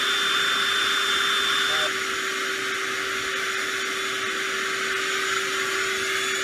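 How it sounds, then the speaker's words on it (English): A household vacuum cleaner runs indoors with a steady, loud motor whine and airflow roar. The drone stays constant the whole time, with no breaks. "One of the sounds that Riley's phobic about is the vacuum cleaner."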